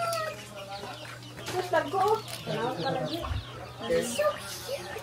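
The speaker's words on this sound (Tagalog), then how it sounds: "Let's feed some chicken." Chickens clucking and chattering nearby at feeding time on a farm in Bukidnon, Philippines, several birds overlapping, with a low steady hum underneath and some background voices.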